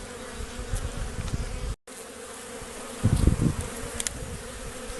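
Honey bees buzzing around a hive entrance on a warm September day as foragers bring in pollen, a steady close swarm drone with louder passes of bees flying near, and no talking.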